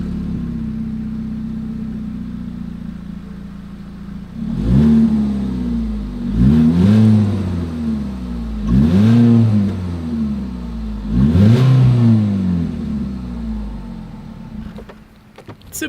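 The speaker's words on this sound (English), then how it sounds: "As always, here is that exhaust clip." Ford EcoSport 4WD exhaust heard from behind the car, a steady low idle broken by four distinct throttle blips, each rising to a loud rev and falling back, evenly spaced with no talk.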